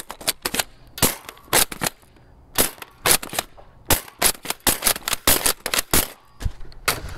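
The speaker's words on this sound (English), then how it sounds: "it's a Nerf gun that shoots 250 FPS" A 250 FPS Nerf blaster fires rapid dart shots at a block of ice, giving a dense series of sharp, loud cracks in irregular bursts with short pauses between them.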